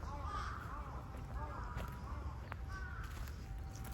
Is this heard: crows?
yes